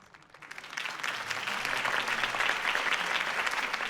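A crowd at a campaign rally in Batman The Telltale Series breaks into applause that swells quickly and holds as a dense, steady clapping roar.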